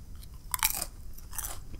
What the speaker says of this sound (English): then you get the crunch from the chip on the bottom